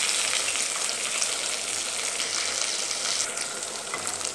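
Shallots and curry leaves sizzle loudly in hot oil with mustard seeds, a dense, continuous frying hiss that holds steady from start to finish.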